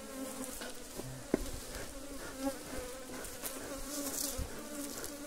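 Honey bees swarm and buzz around hives at an apiary, a dense, steady drone of many wings close by, with no voices over it.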